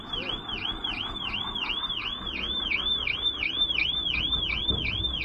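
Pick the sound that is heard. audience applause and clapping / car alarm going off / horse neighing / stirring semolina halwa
car alarm going off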